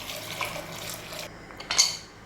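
Two cups of water splash and pour steadily into a metal pot for idli sambar, with a faint clink of cookware near the end.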